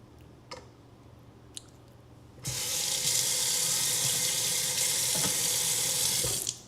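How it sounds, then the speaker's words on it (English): A kitchen sink faucet is turned on and runs water into a bowl, a sudden loud, steady rush after a few quiet clicks and taps, continuing for several seconds before shutting off. "Put in some water real quick in a bowl in the sink that I left there."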